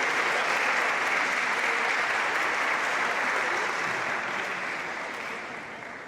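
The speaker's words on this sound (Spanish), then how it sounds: "Un gran aplauso para ellos." Loud, dense applause from an audience at a communication-week event, a continuous roar of many hands clapping that stays strong before gradually fading toward the end, with no speech on top.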